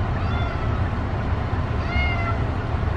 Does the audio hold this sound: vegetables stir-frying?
no